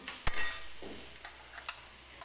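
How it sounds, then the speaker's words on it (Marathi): A spice mix with carom seeds is dry-roasted and stirred in a pan for aloo cheese paratha: a quiet bed of faint sizzle broken by a few sharp spoon taps and scrapes against the metal. "परत एकदा हे मसाले आपल्याला व्यवस्थित भाजून घ्यायचे आहे"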